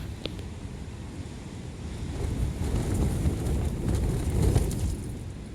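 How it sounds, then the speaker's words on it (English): Strong wind from Storm Ashley roars steadily outside a tent at Blea Tarn with a broad rushing noise, swelling louder toward the end, like gusts battering fabric close by. "it sounds like there's a waterfall right outside my tent. That's how loud the wind is."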